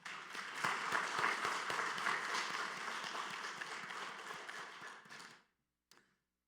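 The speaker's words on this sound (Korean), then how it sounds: "우리 할렐루야 찬양대와 주일 경배 찬양팀 축복하고 격려하는 박수 하도록 합니다" A Sunday worship congregation applauds its Hallelujah choir and worship team, a full, close burst of clapping that holds steady for about five seconds, then cuts off abruptly into near silence with one faint tap after.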